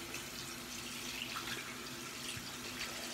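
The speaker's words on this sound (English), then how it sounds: "Put on hot water. Oh wow, they actually do have hot water." Hot water runs from a tap into a sink at a winter camp, a steady, continuous splashing hiss that stays fairly faint and even throughout, with no talk.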